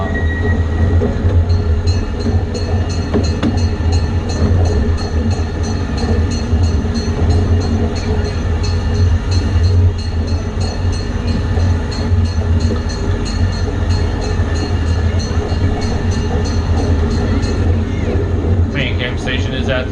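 The Jacksonville Zoo train rolls along its rails, a loud continuous rumble and clatter with steady wheel noise heard from the rear car, while a voice speaks over it and a squeal rises near the end.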